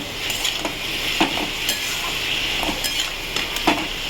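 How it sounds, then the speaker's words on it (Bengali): Vegetables sizzle steadily in a hot pan as turmeric is stirred in, with intermittent spatula scrapes and light clinks over the constant frying hiss. "হলুদটা দিয়ে নেড়ে দিলাম"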